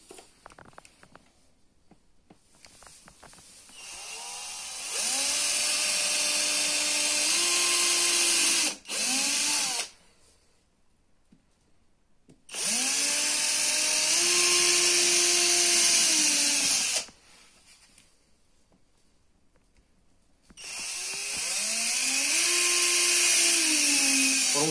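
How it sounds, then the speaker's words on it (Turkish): Power drill boring into a wooden cabinet panel for handmade bedside furniture, three long loud whining runs with pitch dips under load, separated by short quiet pauses. "Bu şekilde yaparken dikkat edin. Halınızı veya parkenizi delmeyin."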